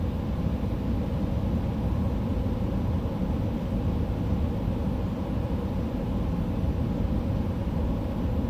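Concorde thrust reversers roaring on landing at London Heathrow in Microsoft Flight Simulator 2020, a steady, loud, broadband jet rumble that holds without a break and has no voices over it.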